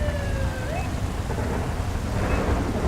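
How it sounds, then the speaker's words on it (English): Thunderstorm in the GTA V video game: a steady, loud wash of rain and rumbling thunder fills the scene, with a brief rising siren tone audible at the start. "Hopefully the thunder and lightning masked my siren."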